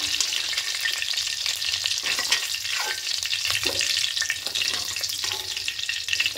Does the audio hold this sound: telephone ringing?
no